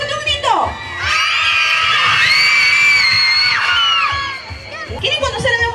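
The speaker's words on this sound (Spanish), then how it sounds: "A ver, fuerte un grito." A crowd of children at a charity radiothon toy event in Pichari shouting and screaming loudly together in one sustained cheer for about three seconds, with adult voices speaking before and after.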